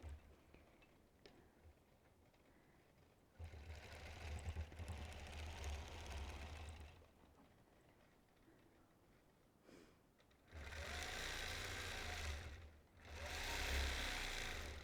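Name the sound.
quilting machine freehand stitching arcs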